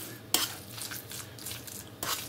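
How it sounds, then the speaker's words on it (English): A spoon stirs finely chopped red beets and green olives into smoked mackerel in a bowl, with soft wet scraping and a couple of brief louder clinks against the dish. "Now we're gonna give this a nice stir."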